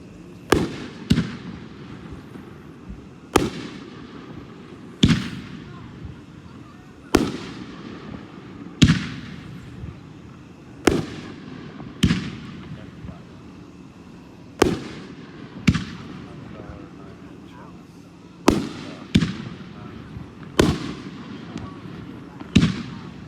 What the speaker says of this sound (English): next item is 3-inch 2-1 atomizer 9 shot. Another long-standing Red Rhino item.